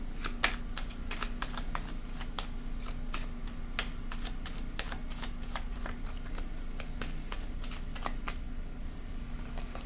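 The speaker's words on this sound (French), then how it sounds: "Je vais déposer une carte sur la sagesse à l'envers." Tarot cards being shuffled and laid down on a table: a faint, steady run of quick crisp card flicks and taps, repeating irregularly over a low background hum, with no voices.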